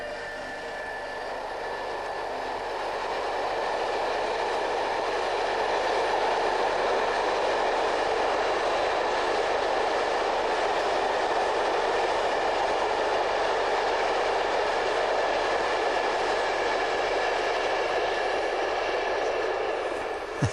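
A train rolls past on the rails near Felmersham Radwell, a loud, sustained rumble and hiss building over the first few seconds and holding steady at close range for about twenty seconds.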